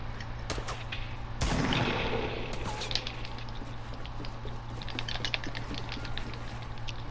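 Gunfire in a 1v1 video game match: sharp shots and bursts of fire over a steady hum, with one louder blast early, continuing irregularly throughout.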